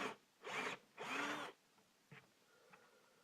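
A power drill bit cuts into a wooden pinball playfield in two loud grinding bursts, followed by a few faint scrapes and taps.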